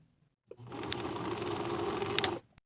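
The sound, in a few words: sewing machine stitching a dress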